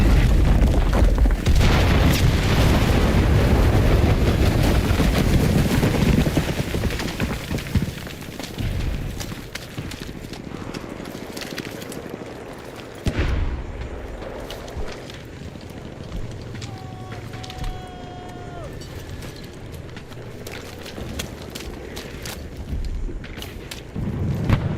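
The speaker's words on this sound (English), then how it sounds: "I hear the firing." Gunfire and explosions in a video game: heavy booming blasts and rumbling at first, easing into scattered sharp cracks and distant thuds, with faint voices underneath.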